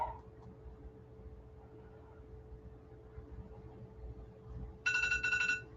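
A phone alarm rings near the end, a short bright repeating electronic tone over a quiet room hum, starting abruptly after several seconds of near silence.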